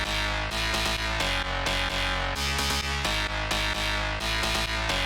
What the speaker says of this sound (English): find a bass sound that sounds very aggressive, like this sample, and put down a bass line